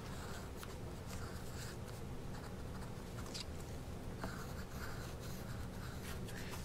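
A pencil tracing an outline on paper, with soft continuous scratchy strokes and small taps close to the microphone, quiet and steady with no talking.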